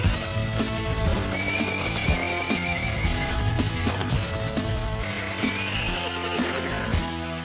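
A mustang from a bachelor herd roaming the Utah desert lets out shrill neighs and whinnies over a busy, dense backdrop with hoof clip-clops, loud and close throughout.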